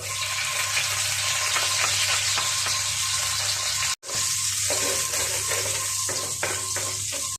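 Garlic sizzling in hot oil in a pan, a steady loud frying hiss with small crackles and the scrape of stirring, briefly cut off for a moment midway.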